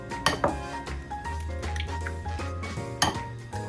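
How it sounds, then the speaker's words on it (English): Meatball ingredients of garlic, chopped onion, breadcrumbs, grated cheese and eggs being mixed in a bowl, with a few sharp clinks and knocks of utensil against bowl over a soft, steady scraping and stirring, fairly quiet and close. "we start mixing our ingredients to turn them into big, juicy meatballs"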